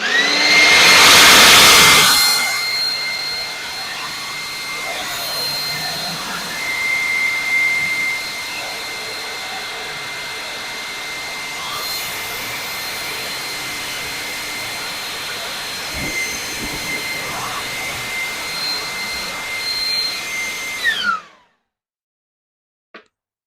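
A powerful air blower roars loudly against a car's sealant-coated paint, a harsh whooshing jet that surges at the start, holds steady for about twenty seconds, then cuts off abruptly into silence.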